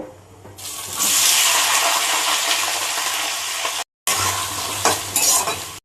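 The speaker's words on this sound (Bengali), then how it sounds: "এবার পেঁয়াজগুলো ঢেলে দেব" Chopped onions hit hot oil already holding cardamom and cinnamon, bursting into a loud rushing sizzle that stays dense and steady, cuts out for a moment, then returns with spatula scrapes.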